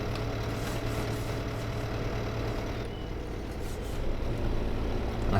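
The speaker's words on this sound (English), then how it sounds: "So we want to position that tractor in a good place." A tractor engine idles in Farming Simulator 2015, a steady low rumble held at a constant level throughout, with no talk over it.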